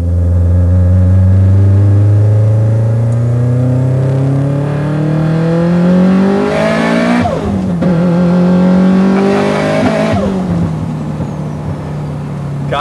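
A heavily modified Subaru WRX STi street car with a turbocharged engine revs hard and loud up through the gears, the pitch climbing steadily, dropping at each shift and climbing again, close and continuous.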